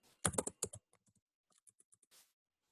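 Typing on a computer keyboard while writing HTML code: a quick close burst of loud clacking keystrokes, then a run of fainter scattered taps ending in a brief spacebar-like thud, with no voice.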